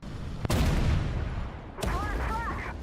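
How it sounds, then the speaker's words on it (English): Artillery HE shell striking a tank in the video game World of Tanks, two sharp booming impacts, the first followed by a rumbling roar and the second by a ringing tone, close and loud. "the artillery has killed me with that last bit of HE"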